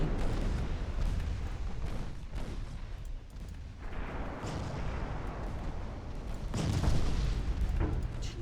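Battleship guns booming in the naval game Ultimate Admiral Dreadnoughts, a dense rumbling barrage of heavy shots and explosions rolling on throughout, with a louder burst near the end and no talk.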